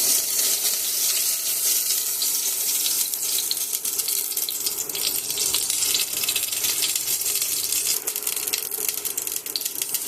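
Hot oil spitting and sizzling in a pan, a dense, steady hiss that stays loud and close without a break, with no voices over it.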